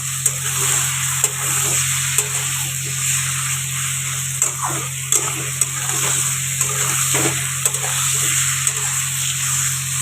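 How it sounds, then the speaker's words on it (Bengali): Chicken mince going into a hot pan and frying, a steady close sizzle with scattered stirring scrapes and clicks throughout, no voices. "এবারে চিকেন কিমাটা দিয়ে দেবো।"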